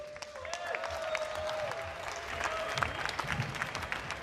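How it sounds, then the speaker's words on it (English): An audience at a Clash Royale tournament grand final applauds in a sustained, even burst of clapping, with a faint tone and some voices faintly audible beneath it. "Please, a round of applause for being so great today."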